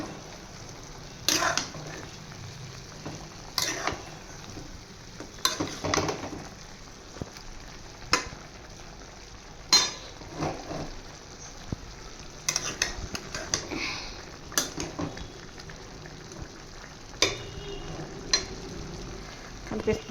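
Chicken curry with ginger garlic paste sizzles steadily in a pan while a spoon scrapes and stirs it in repeated bursts of clatter.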